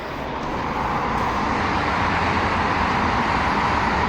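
Car traffic heard from a dormitory window in Ankara, a loud, unbroken roadway roar that holds steady and swells slightly throughout, with no talk over it.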